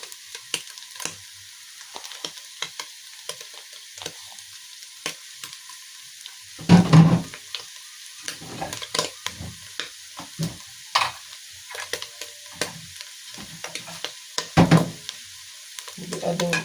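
Matumbo (beef tripe) frying in a pan, a soft continuous sizzle broken by irregular scraping clatters of stirring, two louder strokes standing out, close and fairly quiet with no speech.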